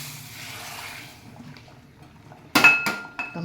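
A metal ladle clinks against a pot as ghee-rich lentil soup (dal saaru) is scooped and poured, a few sharp close knocks and clinks after a soft wash of liquid sound.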